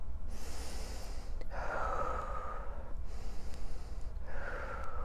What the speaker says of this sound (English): I'm going to actually manually override my breath right now.